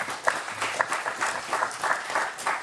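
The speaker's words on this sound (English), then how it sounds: "Give Chuck a round of applause" A Comic-Con panel audience applauds for a panelist, a short burst of crowd clapping with rhythmic swells and a faint voice underneath.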